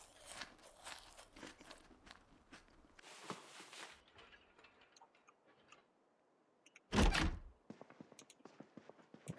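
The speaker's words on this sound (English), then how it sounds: "I'm just gonna eat this because it's good calories" Crunchy food is eaten in a video game apocalypse setting, giving scattered crisp crunches and clicks, including a loud close bite, with quiet gaps between them.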